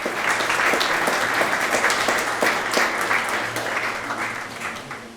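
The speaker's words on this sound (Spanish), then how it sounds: "Un aplauso, Nidia y Lucía." Audience applause at a live event, a steady crowd clapping that continues for several seconds at an even, full level.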